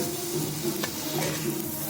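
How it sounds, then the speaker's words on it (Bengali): Fried tomato goes into a pan of frying rupchanda fish curry, giving a steady close sizzle with faint stirring that runs throughout without talk. "ভেজে রাখা টমেটোটাও দিয়ে দিচ্ছি মধ্যে।"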